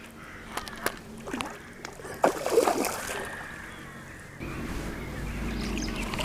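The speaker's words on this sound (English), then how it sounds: "Wow, that's a big splash." A big splash at a fishing lake as a hooked fish thrashes at the surface, with bursts of sloshing water, scattered knocks and a crow cawing nearby, followed by steady outdoor noise.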